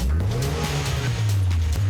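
A Fast and Furious build car runs loud and close with its engine revving hard; a steady low drone rises and falls through a couple of throttle blips, with no talk over it.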